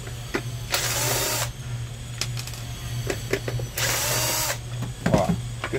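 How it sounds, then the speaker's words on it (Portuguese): A power drill whirs from a neighbouring house under renovation, two sustained bursts of several seconds each with scattered knocks between, somewhat distant over a steady low hum. "desculpa esse barulho que vocês estão ouvindo aí, gente. Aqui na minha rua, mas o pessoal gosta de reformar casa."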